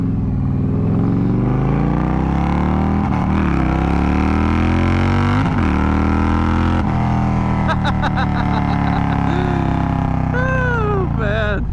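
An Indian Challenger motorcycle engine pulls loud and close while riding, its deep steady drone rising and falling as the throttle is worked, with wind noise and brief tonal chirps near the end.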